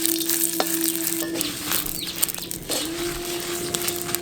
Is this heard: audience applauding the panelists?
no